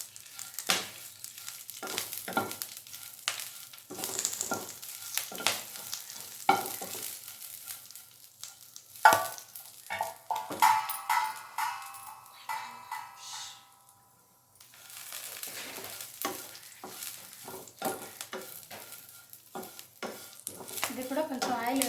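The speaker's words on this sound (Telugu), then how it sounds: "ఇది కూడా కొంచెం ఆయిల్ వేసుకొని మనం వేయించుకోవాలండి ఆకు కూడా." Punarnava leaves frying in a little oil while being stirred in a pan, with soft crackling sizzle and scraping strokes coming in bursts, a quieter stretch midway, faint and close.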